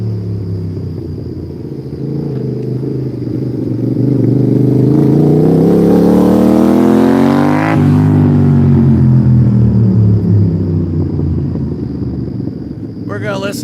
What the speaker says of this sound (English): We have a motorcycle.